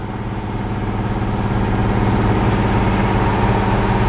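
A car engine with a leaking head gasket holds a steady idle near 2200 RPM at operating temperature, the heater running. The drone is close, even and continuous, with no talk over it.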